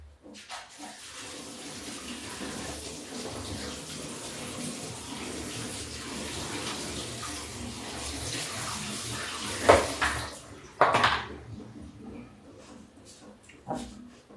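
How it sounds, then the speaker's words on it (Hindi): A kitchen tap runs steadily for about ten seconds while chopped spinach is washed beneath it, then the flow stops amid a few knocks and clatters, followed by quieter handling noises. "ये मैंने पालक काट ली है, इसको धुल लेते हैं"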